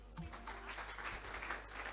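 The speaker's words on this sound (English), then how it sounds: "Do you know why you're clapping for yourself?" An audience claps for themselves, a steady, fairly faint patter of many hands that carries on without pause for a couple of seconds.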